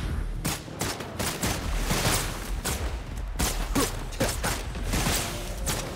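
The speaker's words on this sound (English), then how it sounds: "Let the bullets fly." Rapid gunfire in the video game Wuthering Waves, dense bursts of shots over a busy, continuous game soundtrack and effects, loud and sustained throughout.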